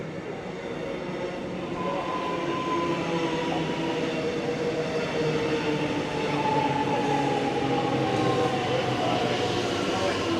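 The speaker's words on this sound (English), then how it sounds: "Train coming in on platform 3" A suburban train pulls into a platform at Camberwell station, a sustained rumble of wheels with faint squeals and clatter that holds steady throughout, while voices murmur faintly on the platform.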